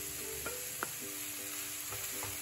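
Chopped huitlacoche sautéing in a pan with Knorr Suiza seasoning, giving a soft continuous sizzle with a few light clicks of stirring, close and quiet, no talk.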